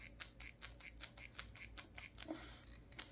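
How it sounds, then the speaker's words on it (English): Crinkling and soft crackling from the glued-and-sewn hybrid-bound spine and cover of a hardbound book as it is flexed, a quick run of faint, close dry ticks with no talk. "You hear that crinkling sound."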